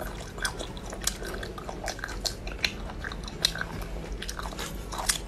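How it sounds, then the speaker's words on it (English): People chew beef at close range during a mukbang, with wet, crunchy bites and mastication sounds repeating steadily, sharp clicks standing out. "they're chewing it"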